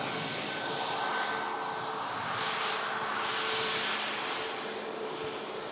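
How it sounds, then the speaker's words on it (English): A Ryanair Boeing 737 MAX 8-200 jet arrives at Manchester Airport in breezy storm weather, its broad engine roar steady and fairly loud throughout, with no talking. "Next aircraft is another Ryanair, this time coming in from Cologne with a MAX 8200"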